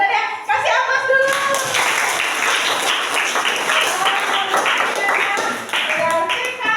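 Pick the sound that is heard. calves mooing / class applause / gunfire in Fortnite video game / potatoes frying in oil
class applause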